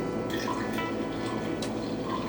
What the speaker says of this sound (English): if you have a coffee filter or something, you can just use this to put it in the coffee filter and let it just drip out